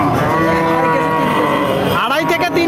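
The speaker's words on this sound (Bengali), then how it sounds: "দেশাল জাতের গাভী সাথে বকনা নাকি?" A desi breed cow with her calf gives a loud, drawn-out moo at a cattle market, close by and lasting about two seconds, followed by a short second call.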